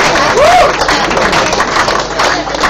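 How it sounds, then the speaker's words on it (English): A conference audience at a Web Wednesday event in Hong Kong breaks into sustained, loud applause, a dense wash of clapping filling the room for the whole stretch with a faint voice underneath. "can we have a round of applause for Adrian?"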